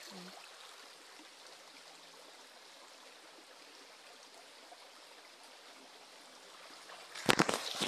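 A babbling brook flows outdoors as a steady, soft rushing wash of water, continuing evenly throughout before a sudden close knock or bump near the end.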